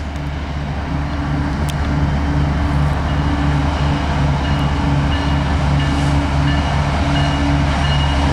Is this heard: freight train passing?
yes